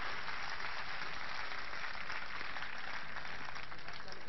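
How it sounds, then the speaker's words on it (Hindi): A large crowd at an anti-corruption rally on Ramlila Ground in Delhi breaks into continuous, dense applause, a uniform wash of clapping that holds steady without pause. "मैं चाहता हूं ये सदन पूरा जोरदार तालियों से उनका स्वागत करे।"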